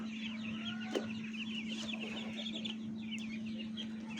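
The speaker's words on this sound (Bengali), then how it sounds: "এই যে আমাদের ব্রয়লার মুরগির বাচ্চা" Broiler chicks cheep in a busy chorus of high peeps over a constant low electrical hum, with an occasional click.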